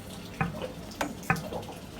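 Water dripping outside a house from an overflow pipe, three distinct drips at irregular spacing over soft background water noise.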